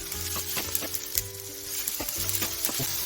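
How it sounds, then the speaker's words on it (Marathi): Spices and dry coconut roasting in a pan until reddish for kat vada masala give a continuous close sizzle, punctuated by several sharp scraping stirs and clinks of a spoon against the pan. "हे सर्व मित्र लाल होईपर्यंत आपल्याला भाजून करायचं आहे"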